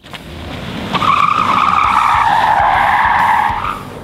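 A Ford Mustang Mach 1 V8 in a drag race, with loud tire squeal and skidding that swells and holds for several seconds over a roaring engine, close by and then fading slightly at the end.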